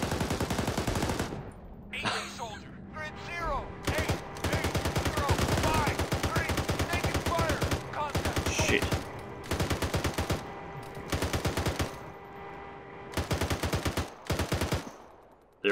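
Bursts of automatic and single-shot gunfire in the Arma 3 Takistan assault, loud and close, firing in repeated rapid volleys with short pauses between them.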